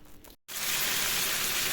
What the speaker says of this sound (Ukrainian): А зараз ось смажиться на цій же сковороді.